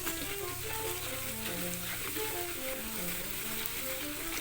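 Garlic and pounded fermented soybean sheets sizzle as they are stir-fried in a pan for the Shan dish jo ngiao, a steady, close crackling fry with faint clinks of stirring throughout.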